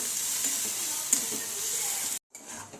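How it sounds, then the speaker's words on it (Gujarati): Onions sautéing in a pan for sambhar, a steady close sizzle and hiss with faint stirring, briefly cutting out near the end. "ડુંગળીને સાતરી લેવાની બરોબર બ્રાઉન કલરની થાય ત્યાં સુધી।"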